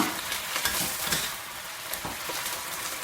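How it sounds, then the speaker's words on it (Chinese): Napa cabbage stems and leaves, with dried chilies, sizzle briskly in a wok, a dense, steady crackle broken by quick stirring scrapes, close and moderately loud with no talking. "炒香下入白菜帮，炒至断香，炒至这样下入白菜叶"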